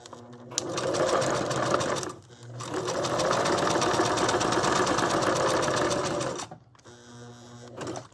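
A sewing machine stitches the sides of a glassine bag trimmed with fabric from an old doll dress, two close runs of rapid, even mechanical whirring separated by a brief pause.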